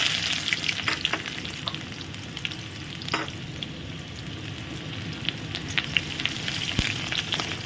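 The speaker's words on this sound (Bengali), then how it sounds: "রসুনের সঙ্গে আর একটা জিনিস যাবে, সেটা হচ্ছে খুব লো ফ্লেম করে দিয়ে দেবো পেঁয়াজ।" Garlic and onion frying in oil on a very low flame, a continuous crackling sizzle like light rain, with occasional stirring clicks and a sharp tap near the end, no talking.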